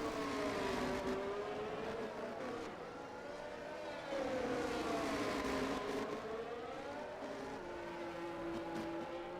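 A McLaren race car in an online racing league game at the Miami circuit, its engine wailing steadily as the revs rise and fall through gear changes over a lap, loud and close in the onboard view with no voices.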